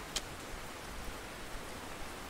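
Steady rain in the fishing game Russian Fishing 4, a soft continuous hiss of falling drops at even low loudness, with a few faint ticks and no voices.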